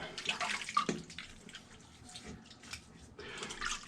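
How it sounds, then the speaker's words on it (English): Water runs from a tap for rinsing after a shave, a soft, uneven splashing and trickling with small bursts as hands move through the stream. "So I'm rinsing."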